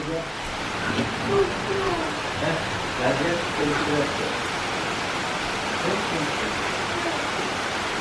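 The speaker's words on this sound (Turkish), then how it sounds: "Ve yağmur yağıyor." Heavy rain pours in a steady, dense hiss, with muffled voices talking over it early on.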